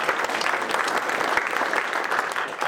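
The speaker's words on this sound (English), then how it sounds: "a big applause for these guys who gave us this kind of night" Audience at a Bellator MMA post-fight press conference applauds in a loud, dense patter of many hands, steady and close, with a few sharper individual claps standing out.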